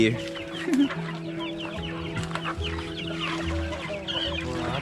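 Several chickens cluck close by in short, overlapping bursts, set against a steady low hum.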